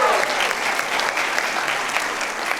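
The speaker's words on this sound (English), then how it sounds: "but a round of applause for Moss Brennan." An awards-ceremony audience applauds an honoree with loud, dense, sustained clapping that fills the room evenly from start to finish.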